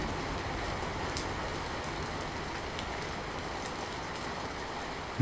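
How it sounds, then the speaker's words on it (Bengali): Heavy, steady downpour roars evenly throughout, a dense continuous wash of rain with no clear thunder clap standing out. "মাঝে মাঝে মেঘের ডাক আর মুষলধারে বৃষ্টির শব্দে"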